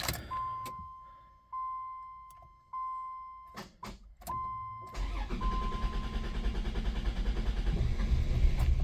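A 1990 Dodge Grand Caravan LE, recently fitted with a new alternator, cranks with several short bursts and a steady warning chime, then catches and settles into a running engine that grows gradually louder.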